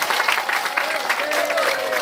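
Applause from the audience at a Balinese Topeng Bondres comedy mask performance, dense and steady for two seconds, with voices and crowd noise mixed in.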